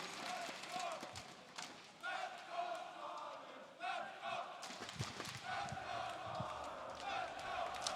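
Esports arena crowd at a CS:GO semi-final between Astralis and Vitality on Inferno at ESL One Cologne, a steady wash of cheering and shouting that swells in bursts, with faint thuds and game sounds under it.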